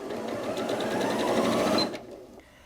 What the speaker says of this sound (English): press it once to start sewing, once to stop sewing, and then if I increase the speed,